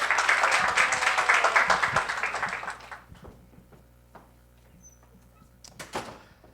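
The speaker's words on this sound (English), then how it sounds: "Let's give an applause for Carlos." Audience applause at a spring startup pitch event: a dense round of clapping for about three seconds that quickly dies away, leaving a quiet room with a few scattered claps and knocks.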